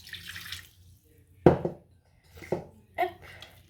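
Water poured into milk-free crêpe batter in a bowl: a few short splashy pours and clinks separated by quiet gaps, close and moderately loud.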